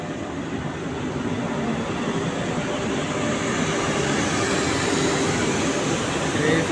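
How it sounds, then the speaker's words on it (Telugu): A train rolls past on a railway in Telangana, a steady loud rumbling roar with a broad wash of noise that swells slightly toward the end, with some voices faintly mixed in. "మీ ఇంకో ట్రైన్ చూపిస్తాను సార్"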